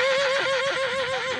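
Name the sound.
Barb horse neighing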